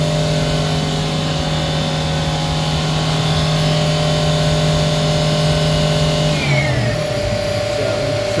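A Fadal 3020 VMC CNC milling machine spindle whines steadily at high speed, then its tones slide downward as it ramps down from 10,000 RPM near the end, loud and continuous in a shop setting.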